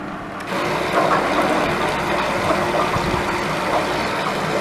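An EC kit pump runs with a steady, close mechanical hum and churning water as it mixes fertilizer into tap water on a farm, starting abruptly and continuing evenly.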